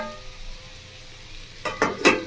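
Fish roe fries in a covered pan over low flame with a soft, steady sizzle, then a few close, sharp scraping or lid clatters near the end, no one speaking.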